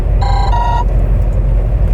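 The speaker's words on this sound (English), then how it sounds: "And that's my phone ringing, but I'll call him back in a minute." A phone rings with a short electronic double chirp, loud and close, followed by a low rumbling background with no talking.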